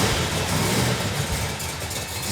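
A big V8 car engine with a big cam idles loudly up close with a lumpy, uneven rumble, no voices over it.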